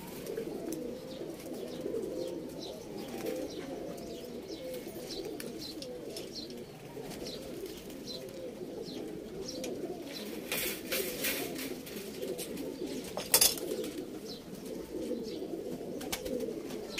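Pigeons coo in soft, repeated rounded calls at moderate distance, layered over each other against a low background hum, with a few sharper chirps and clicks mid-way.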